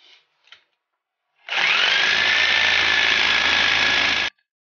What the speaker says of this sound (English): we have a little jigsaw here to help us with that